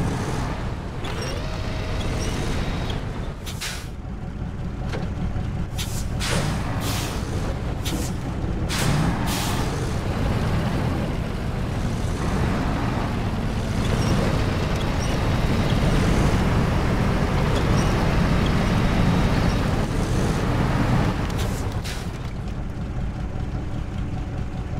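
A truck driving in Expeditions: A MudRunner Game on PS5 gives a loud, continuous engine rumble and road noise. Occasional sharp clicks and knocks cut through it, and no one speaks.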